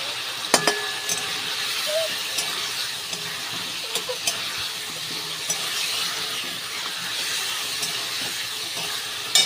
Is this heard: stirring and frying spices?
yes